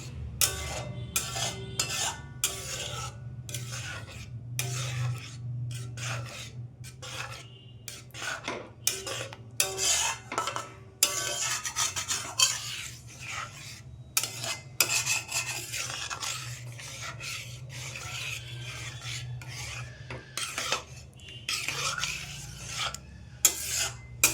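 A spoon scrapes and rubs steadily through a mango semai mixture in a pot, a long run of close rasping strokes with brief pauses between them.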